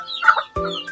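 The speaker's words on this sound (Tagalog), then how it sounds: "Kasi left and right dito ang mga manok." Chickens cluck close by in a rural Philippine province, a few short clucks in quick succession.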